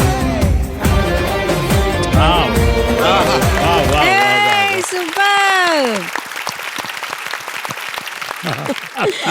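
Audience applause at a celebration of a television show's 100th episode, loud clapping mixed with music and a singing voice, later thinning into scattered claps.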